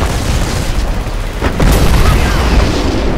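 An armored vehicle explodes in the video game Renegade X: a heavy boom with a rumbling burst, a brief crackling flare midway, then sustained loud rumble.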